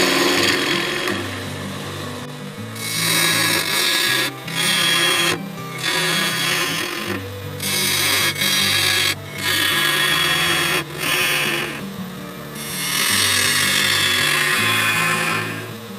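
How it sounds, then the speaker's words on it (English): A bowl gouge cuts into wood on a lathe while a bowl is turned, making loud, sustained scraping and shearing passes that repeat in several long strokes with short breaks between them. "We're going to pick up the cut, create that groove, and then just sweep the gouge"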